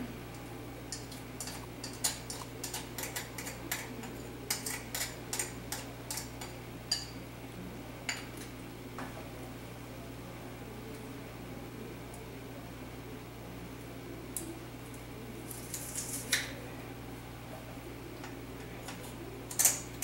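A fork scrapes pressed garlic off a metal garlic press in a kitchen, giving a string of small, faint clicks and ticks over a steady low appliance hum, with a few sharper scrapes near the end.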